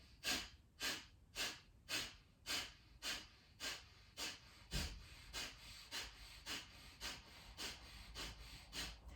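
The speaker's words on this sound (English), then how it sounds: "So take a deep inhale and begin pumping." Rhythmic pumping breaths during a yoga breathing exercise, about sixteen sharp, forceful puffs in a steady fast cycle, close and clear with no talk.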